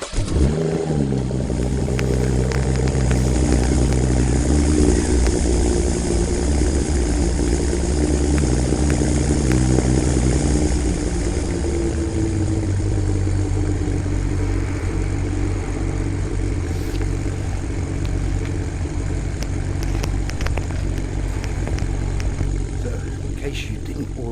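A Fiat 500 rental car engine drones steadily while driving, a loud continuous low hum with road noise throughout.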